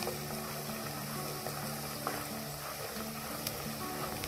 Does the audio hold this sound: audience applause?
no